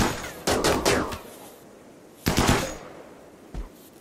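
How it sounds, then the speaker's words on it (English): Gunfire in the video game RimWorld: short bursts of rapid shots, one around half a second in and another near two and a half seconds, then a single quieter shot, with no talking. "when we shoot at him like this"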